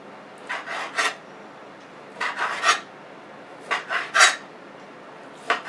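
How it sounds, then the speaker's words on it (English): A knife slicing cabbage into thin strips on a board, with short raspy crunching strokes in three quick clusters and a final single cut, close up with quiet gaps between. "you're cutting it in, let me show you, thin strips like that"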